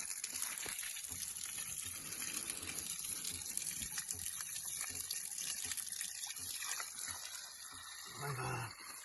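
Cold mountain water gushes steadily from an open pipe at a forest campsite, a continuous loud, close rushing splash that runs without a break.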